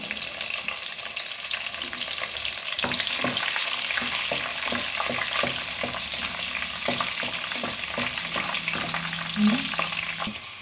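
Urad dal and green chili frying in hot oil in a pan, a constant close sizzle broken by spatula stirs and small pops, with no voices.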